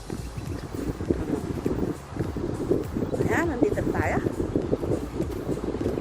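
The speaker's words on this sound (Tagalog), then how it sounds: "Malakas ang hangin." Strong, cold wind gusts steadily across the microphone on a mountain near cottages, a continuous broadband roar under someone talking.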